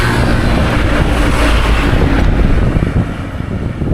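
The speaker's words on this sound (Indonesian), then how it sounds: "Lihat tuh, angin bikin pohon pada bergoyang." Strong wind sweeps past along a hot, quiet coastal highway between Jakarta and Pekalongan, a loud continuous roar and buffeting that swells and eases slightly, with no voices.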